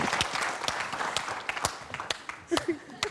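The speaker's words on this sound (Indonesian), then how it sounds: "Tepuk tangan." An audience at a Q&A event with Indonesia's youth and sports minister breaks into applause, a dense patter of many hands clapping at moderate volume with some voices mixed in.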